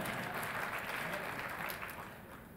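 An audience at a closing conference keynote claps in a dense, sustained round that fades slightly toward the end.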